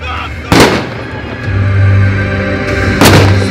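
Two heavy artillery booms from a large Ukrainian battle reenactment at the Arsenal factory, the first near 0.5 s and the second near 3 s, with a steady rumble and crowd noise filling the gap between them.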